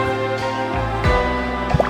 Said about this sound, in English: stirring one scoop of instant coffee into a mug of tap water